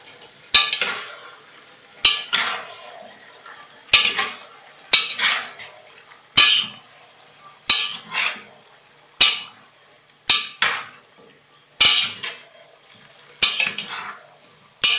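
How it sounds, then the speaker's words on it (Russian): A metal spoon stirs Kyrgyz plov with carrots in a pot, with about a dozen sharp scraping clanks against the pot at a steady pace of roughly one every second and a half, each trailing into a soft sizzle. "Это тщательно, тщательно перемешиваем, чтобы не подгорело."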